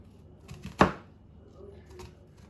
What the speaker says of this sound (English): Just cut it so that there's about 1/4 of an inch left at the end of the onion.